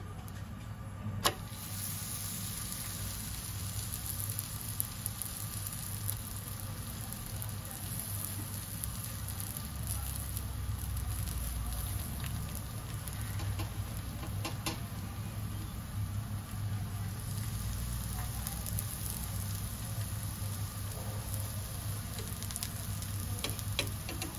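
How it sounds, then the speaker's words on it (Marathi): Ragi (nachni) paratha cooks on an oiled tawa over a gas flame, giving a steady, even sizzle that carries on unbroken for the whole stretch with no talking. "इथे मी गॅसवर तवा ठेवलाय, त्यावर थोडंसं तेल लावून घेतलंय आणि आता आपण यावर पराठे शेकायला घेऊया।"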